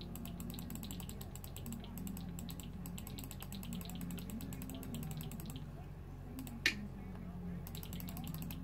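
A loud computer mouse clicks rapidly and steadily during a Cookie Clicker session, its crisp ticks forming dense bursts over a low background hum, with one sharper click standing out.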